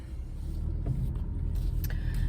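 Car driving on a road, the engine and tyre rumble holding steady and fairly loud throughout, heard from inside the cabin with a few faint clicks and rattles over the top.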